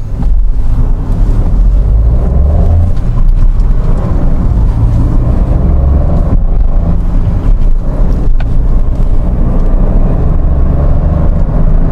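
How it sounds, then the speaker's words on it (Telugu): A Mahindra XUV300 pulls hard through its gears at high revs, a loud, steady engine drone mixed with rushing wind and road noise that holds without a break from start to finish. "నేను హై రివ్స్లో గేర్స్ మారుస్తున్నాను"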